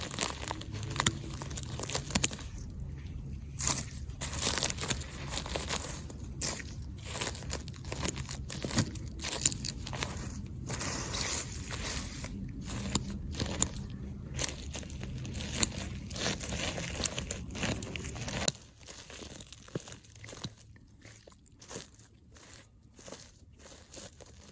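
Dead growth is trimmed off a high-desert garden plant in spring, with faint, irregular crinkling, snipping and rustling of dry stems at close range, continuing steadily without talk.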